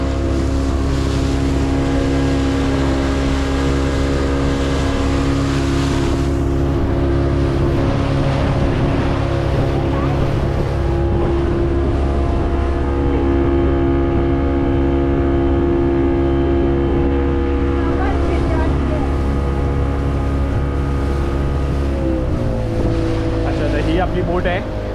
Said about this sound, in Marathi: ही आपली बोट आहे, ही पॅरासेलिंगची बोट आहे.